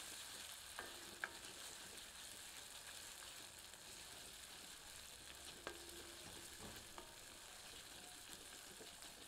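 Peas frying with other ingredients over medium heat for matar paneer, a steady faint sizzle with occasional soft clinks and scrapes of stirring, no talking.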